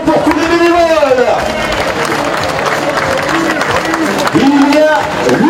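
Crowd applause for the volunteers at a French senior doubles and women's singles pétanque championship, a steady roar of clapping and cheering with an announcer's voice over the top throughout.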